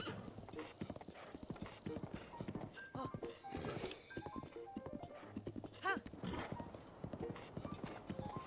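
A horse walks along a path with steady, close clip-clop hoofbeats, while a voice talks over it and a brief whinny-like call cuts in partway through.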